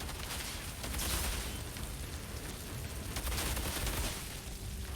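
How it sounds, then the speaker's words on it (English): Shotgun fire and combat in the Outriders video game, a dense, loud wash of blasts and booms running continuously without clear gaps between shots. "Surprise! Shotgun!"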